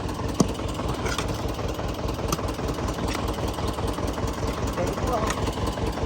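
A tractor engine drones steadily throughout, low and continuous, with occasional faint clanks; voices are audible in the background.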